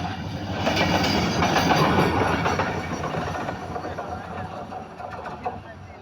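A train rumbles past near an airport station, a steady loud roll of wagons with rhythmic clickety-clack wheel beats, while voices talk over it.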